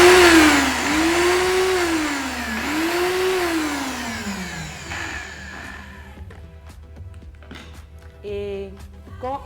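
A grinding machine runs loud and close while blending kapande with water. The motor whines and wavers in pitch for about five seconds, then winds down, leaving soft clicks and handling noises.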